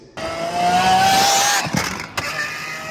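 A Mercedes-AMG GT63 E car driving, engine rising in a strong rev with a whining tone, then short pops and bangs as the throttle lifts, loud and close, no talk.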